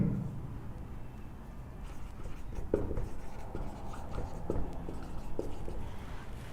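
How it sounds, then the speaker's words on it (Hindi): Chalk or marker tapping and scratching on a board during a lesson on the preamble of the Indian constitution, a few faint, sparse strokes over room noise with no voices. "अर्थात लिख करके यहां लिखेंगे"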